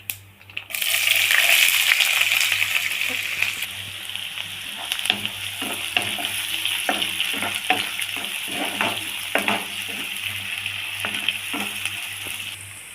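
Oil sizzles and crackles steadily in a pan after a sharp burst as chopped onions hit it, with scattered clicks and stirring pops throughout.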